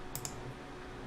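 Two quick, faint mouse clicks come from a computer during 3D modeling work in Blender, close together and then followed by a steady background hum.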